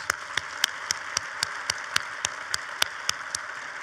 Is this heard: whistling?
no